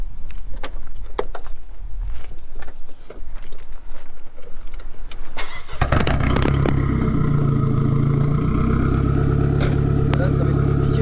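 A loud Nissan S13 engine starts rumbling midway and keeps running steadily with a tractor-like sound, with clattering noise throughout.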